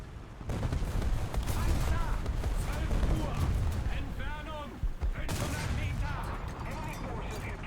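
Sustained battlefield gunfire in the War Thunder tank game, dense bursts and booms from the half-second mark onward with a brief drop near five seconds, while a player talks over the fighting.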